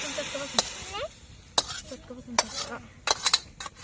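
Fenugreek greens stir-fry with garlic scraped out of a pan onto a plate, giving a series of sharp metallic scrapes and clinks of a spatula against the pan, with faint sizzling between strokes and a few soft voices in the background.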